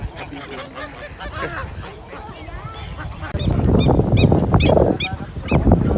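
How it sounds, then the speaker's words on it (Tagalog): Ducks at a park honk and quack loudly at close range, a flurry of repeated nasal calls that grows busier partway through, mixed with background bustle. "Sila yung mga kaibigan nating Bibe"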